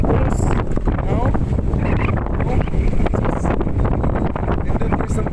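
Strong sea breeze buffeting the microphone along a seaside boulevard, a steady loud rush of wind with gusty low rumble throughout and faint background activity.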